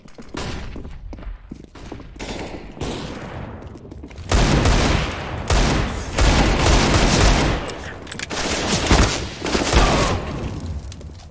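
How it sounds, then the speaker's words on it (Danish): Dense CS:GO gunfire and grenade blasts on the de_cache map, loud and continuous, with a heavier burst partway through as rapid shots keep rattling on. "Grenade out. Throwing flashbang."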